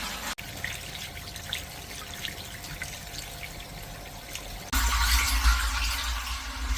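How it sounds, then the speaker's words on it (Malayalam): Water drains away after a valve is turned, a steady hiss and trickle that suddenly grows into a louder rushing flow partway through, close by and with no talk. "തിരിച്ചു കൊടുത്താൽ കണ്ട വെള്ളം ഇതേപോലെ ഇങ്ങോട്ട് പോകും"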